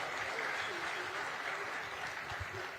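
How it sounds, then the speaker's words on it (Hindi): Applause from an audience at a police conclave in Surat, a steady, fairly soft wash of clapping that continues evenly throughout. "मैं चाहूंगी कि इस चर्चा की शुरुआत एक बार जोरदार तालियों के साथ"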